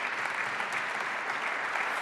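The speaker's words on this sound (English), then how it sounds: "y'all can clap" An audience claps and applauds steadily throughout, a dense wash of many hands at an event with a congresswoman-elect, no voices on top.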